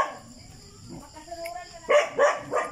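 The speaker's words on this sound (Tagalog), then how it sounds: "Buti hindi ito nangahabol aso." A dog barks three times in quick succession near Matang Tubig falls in Canlubang, Laguna, the loud, close barks arriving toward the end after a quieter stretch of outdoor background.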